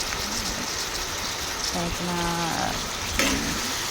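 Prawns fry in a hot pan in a home kitchen, giving a steady, soft sizzle throughout, with a few short voiced sounds rising briefly above the crackle.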